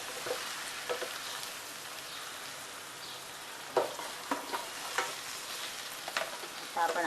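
A stuffed crab, Aagri style, is turned over and cooked in a pan with a steady, fairly faint sizzle, broken by scattered pops and utensil taps that grow busier toward the end.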